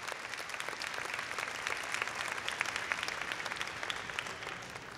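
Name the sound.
applause for the volunteers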